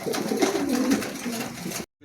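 Pigeons coo softly in a short, low, murmuring phrase at close range, with the sound cutting out abruptly near the end.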